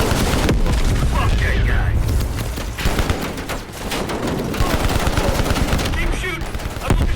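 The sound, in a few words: machine gun fire in video game Call of Duty Black Ops Cold War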